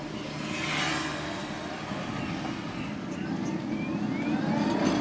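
A Montra electric vehicle pulls away in power mode with a steady, rising motor whine and road rumble that grows slightly louder over several seconds, heard from inside.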